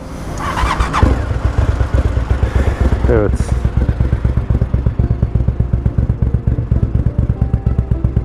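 A Suzuki TL1000R 1000 cc motorcycle with a performance exhaust starts up and settles into a loud, lumpy, rapidly pulsing V-twin idle, close by; a brief voice is heard near the start.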